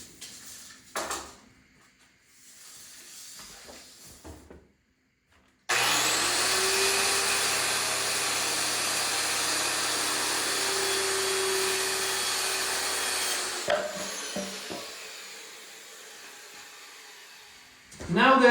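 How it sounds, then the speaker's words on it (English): A circular saw cuts the excess off a wooden ceiling plank in a workshop, a loud steady whine lasting about eight seconds, with brief handling noises and quiet talk before and after. "then come in with a circular saw, cut the excess off"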